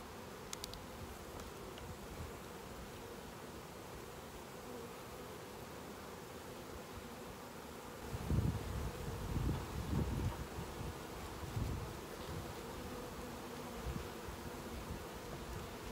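Honey bees buzz around an open beehive, a faint steady hum with a few louder low rustling bumps midway as frames are handled.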